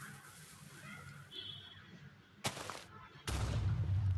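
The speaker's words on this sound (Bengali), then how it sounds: "টিএনটি আপনি ফায়ার চার্জ দিয়ে ফাটাতে পারেন, ব্লাস্ট হবে" Two sharp, loud blasts of TNT going off in Minecraft, the first a brief burst and the second a heavier explosion rumbling on to the end, after a faint, quiet background.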